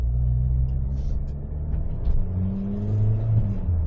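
A Honda Civic EK9 with a swapped K24 engine pulls away under acceleration, its exhaust a deep, steady rumble that rises in pitch as the revs climb, close and continuous.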